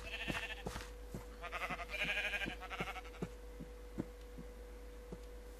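Two bleats from Minecraft sheep, one near the start and one longer in the middle, over a steady electronic hum and a regular series of soft clicking taps.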